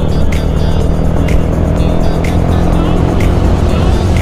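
A Honda RS 125 fi motorcycle overtaking on an open road while fully loaded, with steady engine drone mixed with heavy wind rush and road noise, loud and continuous.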